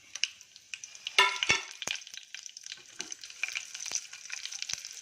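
Mustard seeds, chana dal, urad dal, curry leaves and fenugreek spluttering in about three spoons of hot oil in a pot; crisp crackling pops burst irregularly over a soft sizzle, close and fairly loud, with no talking.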